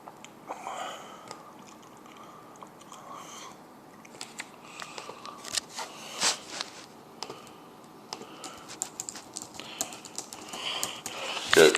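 Fingers type on a computer keyboard set on a table, a close, steady patter of uneven key clicks with occasional louder taps and brief pauses, running throughout.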